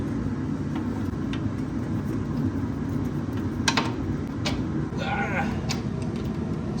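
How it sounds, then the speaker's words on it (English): A Jeep Grand Wagoneer engine idles steadily in the background as a constant low rumble, with occasional metallic clicks and creaks on top. "We just got the Jeep running to confirm that 4-wheel drive is working."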